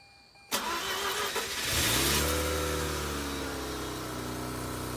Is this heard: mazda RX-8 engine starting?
yes